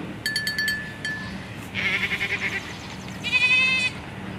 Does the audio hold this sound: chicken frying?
no